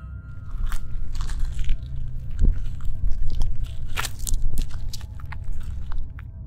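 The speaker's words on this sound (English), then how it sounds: "I could hear the scraping sounds of pebbles skittering down my driveway" Something drags across a gravel driveway, sending pebbles scraping and skittering in dense, irregular crunches. The grinding rustle is loud and close and continues without pause.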